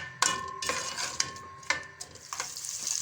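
Onions frying in a pan, a steady sizzle broken by several sharp clinks and scrapes of a utensil stirring against the metal, close and moderately loud.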